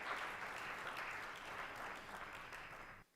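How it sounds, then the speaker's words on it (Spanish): A church congregation breaks into sustained applause, a thick, even wash of clapping that holds steady before cutting off abruptly near the end. "Denle un aplauso a Jesús."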